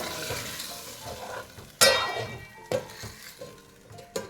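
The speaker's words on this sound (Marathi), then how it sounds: "आता आपण ही फोडणी आपल्या भाजीमध्ये टाकून घेऊया" Hot oil tempering crackles and sizzles as it hits spinach, with a sharp burst of spitting, then clinks of a pan and spoon as it settles.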